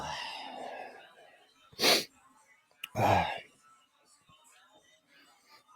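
A person sneezes twice in quick succession, loud and close, each a sharp explosive burst after some breathy murmuring, with a little rustle and a faint click afterward.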